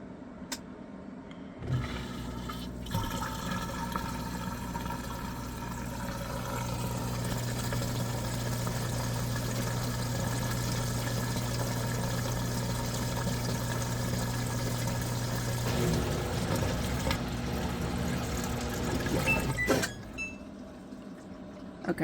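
A washing machine runs in an RV, a steady low mechanical hum with a droning tone and faint watery churning that swells slightly midway, then cuts off near the end.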